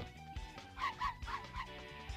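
Dog barking in the video game Simpsons Wrestling: a run of rhythmic yapping barks over steady game music, moderately quiet.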